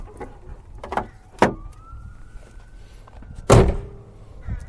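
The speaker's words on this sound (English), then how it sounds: "let's close this hood" The hood of a Nissan Leaf drops shut with a few light knocks and taps, then a single loud slam near the end, with a faint tonal whine in the background between the impacts.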